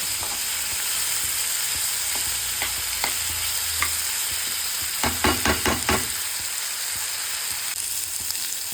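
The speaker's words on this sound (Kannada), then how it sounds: "ಸಾಕು, ಇಷ್ಟು ಫ್ರೈ ಆಗಿದೆ." Tomato, coriander and spices frying in a pan for a goat blood gravy, a steady sizzle under a run of quick scraping stirs near the middle, with no voices.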